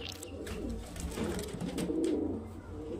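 Lalshira pigeons cooing close by in low, throaty burbling calls that rise and fall, several birds overlapping against a soft background hiss.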